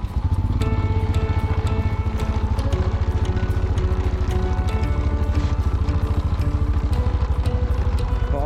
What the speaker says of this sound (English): Riding a bike with snow chains is completely a different experience.